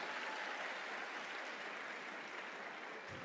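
An audience at a student festival claps in a continuous, fairly faint wash of applause lasting a few seconds, with no voices over it.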